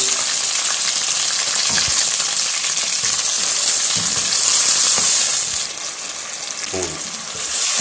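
Chicken with tomato puree frying in a pan for a chicken masala fry, a loud continuous hiss and sizzle with occasional stirring scrapes, no voices.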